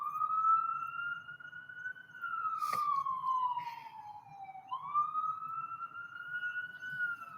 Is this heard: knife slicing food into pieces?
no